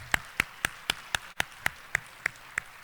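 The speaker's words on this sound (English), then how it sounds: "Let's give one more round of applause for Dan and Cathy." Steady, evenly spaced hand claps ring out about four per second, crisp and fairly close, as a tribute to Chick-fil-A CEO Dan Cathy, with no voices over them.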